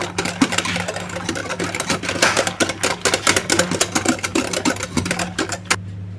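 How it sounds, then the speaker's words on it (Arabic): Orange cake batter is mixed, most likely with an electric mixer, giving a continuous motor whir with dense, rapid rattling and clicking throughout, close and fairly loud. "صافي غادي نخلط مزيان"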